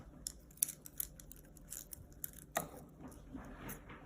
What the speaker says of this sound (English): Got my scissors.